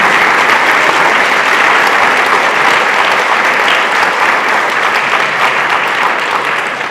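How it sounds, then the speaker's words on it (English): Sustained applause from a large audience at a business school commencement honors celebration, dense and loud throughout the whole stretch with no voices on top, tapering only slightly at the end. "Let's have a big round of applause for everybody."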